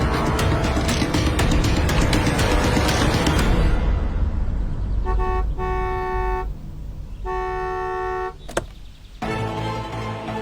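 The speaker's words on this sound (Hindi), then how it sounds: "एक कार की हॉर्न" A car horn sounds in a few separate honks, loud and close, after a stretch of heavy rumbling traffic noise.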